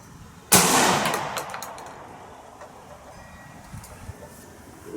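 A single sharp shotgun blast of bird shot, fired while patterning a gun for turkey season, stands out against quiet outdoor air and trails off into a fading echo.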